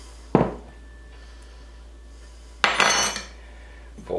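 A fork working butter into flour in a bowl for hand-made pie crust, heard as two short scraping, clinking strokes against the bowl separated by quiet, with another beginning at the end.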